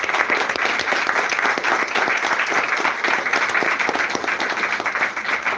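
Congregation applauding during a church service, a steady, full round of clapping from many hands that stays loud and even throughout, with no talk over it.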